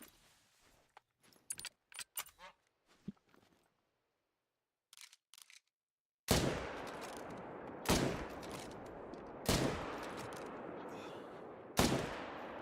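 Rifle shots in theHunter: Call of the Wild, four loud sharp reports spaced a second or two apart, each with a trailing echo, after a stretch of quiet clicks and small handling noises.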